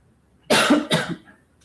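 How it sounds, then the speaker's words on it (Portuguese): Two quick, close coughs in a row from one person, loud and harsh, followed by quiet. "Começa a falar rápido, já começa a tossir."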